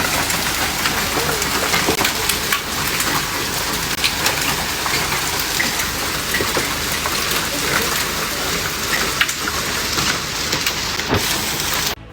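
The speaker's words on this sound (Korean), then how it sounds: "갑자기 강풍과 폭우 그리고 우박이 쏟아졌습니다" Heavy rain and hail pound down in a sudden storm with strong wind in Shanghai: a loud, dense, unbroken roar of falling water, scattered with sharp impact crackles throughout.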